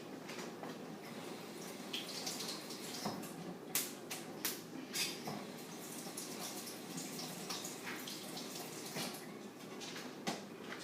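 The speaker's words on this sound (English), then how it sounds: "Let me wash my hands real quick." Hands being washed under running tap water in a home kitchen while baking a tres leches cake: a steady, soft hiss of flowing water with intermittent splashes and drips, faint and close, with no talking.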